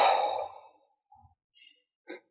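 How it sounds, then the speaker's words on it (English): Deep breaths taken slowly by a person, a long airy exhale at the start fading out, followed by a few short soft breaths and a brief sharper intake near the end, close and quiet. "And you heard me just taking those breaths, right?"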